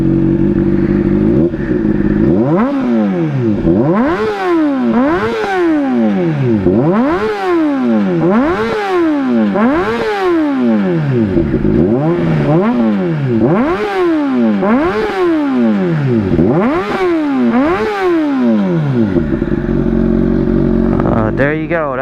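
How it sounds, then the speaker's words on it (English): A 2011 Honda CBR600RR sport bike sits close by at idle, then its exhaust is revved hard about nine times in a steady rhythm, each blip rising and falling loudly before settling back to idle. "That's my 2011 Honda CBR600RR walk around, and you got the exhaust noise."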